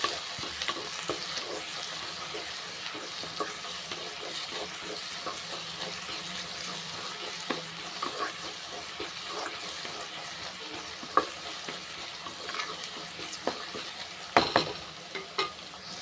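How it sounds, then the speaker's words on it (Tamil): Chopped onions sautéing with salt in a pan, a quiet continuous sizzle broken by frequent small scrapes and clicks of a spoon, with a few louder knocks near the end. "வெங்காயம் வந்து நல்லா வதங்கிருச்சு"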